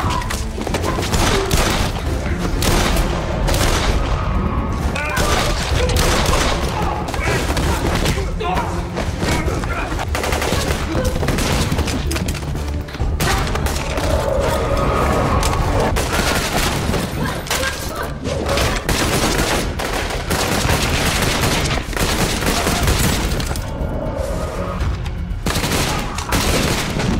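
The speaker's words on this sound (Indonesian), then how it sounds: "tiba-tiba mereka mendengar ada suara tembakan" Sustained bursts of film gunfire with rapid shots and heavy booms, loud and dense throughout, mixed with chaotic action-film sound and occasional shouting.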